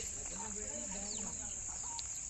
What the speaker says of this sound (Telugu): అవన్నీ కోళ్ళు ఫ్రెండ్స్